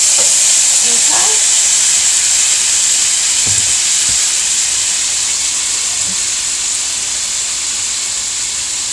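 Brown sugar mustard salmon fries in a pan with a loud, steady sizzle and hiss, and a few soft clinks and scrapes appear near the start.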